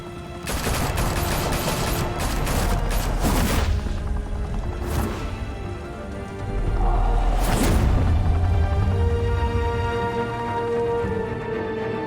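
Heavy gunfire in Batman: The Telltale Series erupts as sustained fusillades with booming bursts and crashes, loud and dense across the whole stretch, easing briefly in the middle before a second intense volley.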